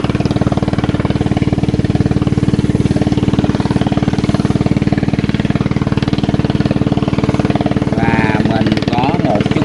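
A loud, constant boat engine drones without pause at close range on Tri An Lake, its steady low chug filling the whole stretch.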